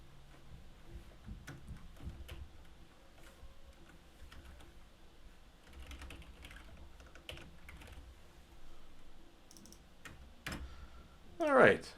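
Someone types on a computer keyboard while setting up a new procedure in NX post-processing software, a quiet run of scattered close key clicks with brief pauses, partly under soft talk.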